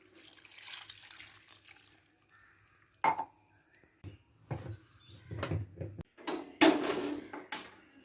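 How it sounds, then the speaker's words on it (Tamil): Water is poured into a pan of chicken curry in a home kitchen, arriving in short splashing bursts separated by quiet gaps, with a few clinks of utensils and pan handling. "தண்ணி சேர்த்துக்கிடலாம்"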